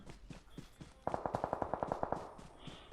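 Gunfire in a firefight in PUBG Mobile, a rapid burst of about a dozen evenly spaced automatic shots, loud and close, preceded and followed by softer game sounds and movement.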